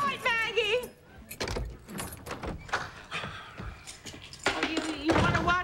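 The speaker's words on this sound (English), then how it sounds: "these darn keys! Always has to be the right one or the door won't open." Keys jingle and clink in bursts as someone fumbles to unlock a door, with a few light knocks and thuds, mixed in among close talking voices.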